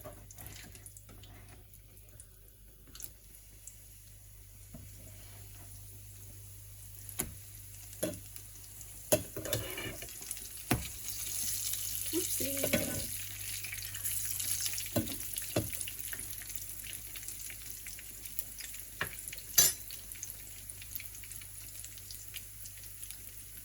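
Ackee and saltfish stuffed dumplings frying in a pan of oil, a faint steady sizzle carrying scattered soft pops and clinks as they are flipped, with no voices.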